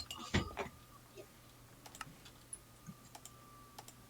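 Computer keyboard keys are pressed in a burst of quick, loud clicks at first, then scattered single taps follow at irregular intervals over a low steady hum, with no talking.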